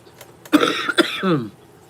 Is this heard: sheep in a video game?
no